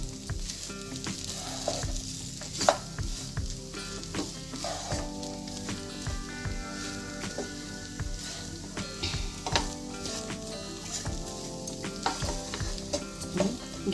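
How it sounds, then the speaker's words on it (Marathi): Potato bhaji with crushed peanut powder is stirred in a hot pan, a steady soft sizzle under repeated scraping strokes of the spoon, close and moderately quiet, with no talking. "ढवळून घ्यायचे।"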